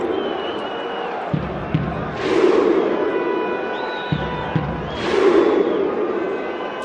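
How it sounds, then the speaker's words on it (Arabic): A huge football crowd at Azadi Stadium, watching Esteghlal play Al Ain, roars and chants. The loud, steady din swells into two big rhythmic surges of cheering. "هذا لما يقول لك الجمهور وما يفعله الجمهور ودور الجمهور وصوت الجمهور وتأثير الجمهور"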